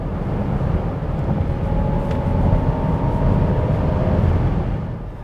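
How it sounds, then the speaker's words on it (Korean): A loud, steady synthetic virtual engine drone from a Jaguar I-PACE electric car that swells slightly in the middle, heard from inside the moving vehicle with road rumble underneath. "이 가상 엔진음에 크게 들어오는 이런 변화가 가장 크게 느껴지는 것 같습니다"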